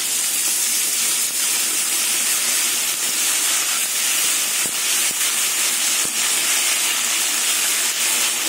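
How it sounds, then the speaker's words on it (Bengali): Water splashed into hot oil in a pan while cooking pointed gourd with fennel, bursting into a loud, steady hiss and sizzle that fills the whole stretch without letting up, with no voices. "এই তেলের মধ্যে আমি সামান্য জল দেবো"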